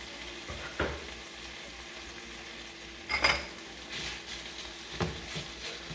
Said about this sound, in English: Last thing we're going to do in this pan is going to be our sausage. We're going to sear it off.